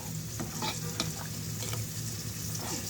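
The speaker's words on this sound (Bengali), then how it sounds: "মাংসটা হচ্ছে দিয়ে দিলাম, আর হালিমটাও হয়ে আসছে ঘন" Halim with meat being stirred in a pot, a steady bubbling sizzle with repeated scraping strokes of the spoon, close and continuous with no talk.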